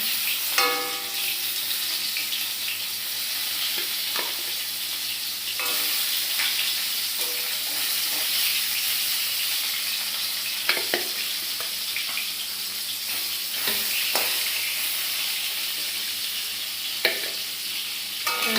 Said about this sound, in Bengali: এই যে শঙ্কর মাছ ভাজা বসাইলাম